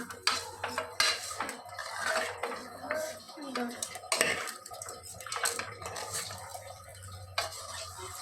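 Chicken gravy being stirred in a pan after salt goes in, with repeated scraping and clinking of a spoon against metal, close and fairly busy, over a low steady hum.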